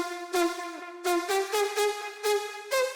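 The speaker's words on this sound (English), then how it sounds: "I think it's 2 layers from Spire and then another horn or something that adds that touch to it" Layered synth chords from Spire with an added horn in an EDM track play short, bright stabs in a syncopated rhythm, each chord punching in with a rich harmonic stack and a brief tail, with no voices.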